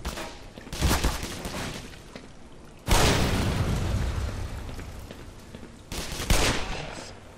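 Heavy gunfire and explosive booms in Black Mesa, loud and sustained, with dense bursts that surge at several points and keep rumbling between them.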